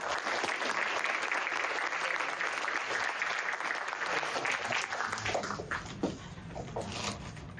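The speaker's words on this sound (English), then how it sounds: "if you can please give me a round of applause for our judges." A hackathon audience gives the judges a sustained round of applause, loud at first and then thinning out into scattered claps before fading.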